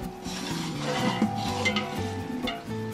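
Crushed red chilli stirred into a large deg of pulao with about 8 kilos of rice, giving continuous scraping and rubbing of a ladle against the pot over a light sizzle, close and steady.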